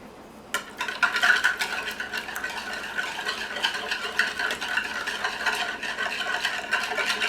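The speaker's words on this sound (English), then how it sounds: "we want to mix this up and make sure it's the right consistency" A spoon whisks lime juice into fish taco sauce in a bowl with a continuous, fast scraping and rattling stir that starts abruptly and runs steadily at close range, with no speech.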